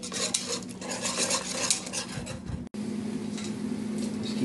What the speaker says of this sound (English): Keep stirring that in.